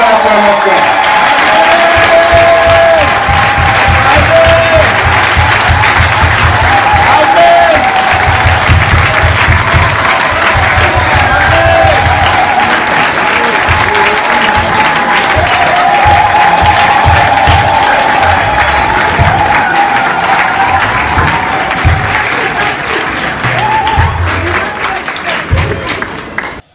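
Loud, sustained applause and cheering from a crowd at a general assembly meeting in Mombo, continuing for nearly half a minute with scattered voices and occasional shouts mixed in.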